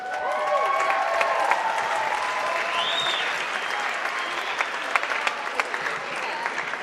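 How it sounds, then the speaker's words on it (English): An audience applauds past pageant queens at a Miss Lehi pageant, steady, full clapping across the whole stretch with a few sharper claps standing out, fairly even in loudness. "To your roaring applause"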